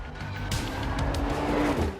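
Turbocharged inline five-cylinder engine of a 2022 Audi RS 3, a loud, steady drone that rises slightly in pitch as the car pulls, heard up close with no talking.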